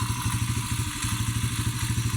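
A motorcycle that had not been run for about two weeks chugs with a quick, even, low-pitched rhythm, sounding close but fairly quiet, with no voices.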